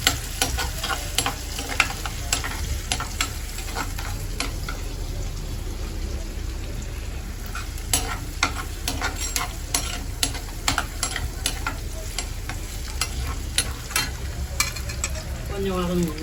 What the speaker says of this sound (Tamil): வெங்காயத்தை போட்டு வதக்கணும்.